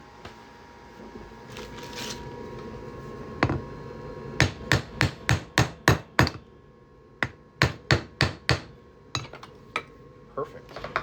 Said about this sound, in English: I'm just going to hammer that on through.